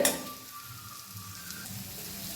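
Turmeric, fenugreek, chili and asafoetida powders fry in hot oil for a hog plum pickle, giving a steady, soft, close sizzle that runs throughout without any talking.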